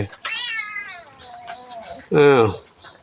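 Cat meowing at a temple in Lampang, Thailand: a long drawn-out meow followed by a louder, shorter cry, close by, with faint background sounds.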